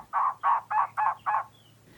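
A trogon calls with five evenly spaced, harsh barking croaks in a steady rhythm, moderately close and clear against a quiet outdoor background.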